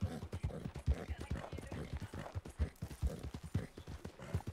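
Horse hooves clip-clop in a steady trotting rhythm, close and quiet, with evenly spaced hoof beats continuing throughout, from a horse ridden in Red Dead Redemption.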